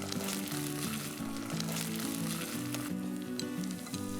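Ginger garlic paste sizzles in a pan with browned onions while chicken pulao is being cooked. The frying is a continuous, moderate crackle, and a stepping melodic tune of background music plays over it.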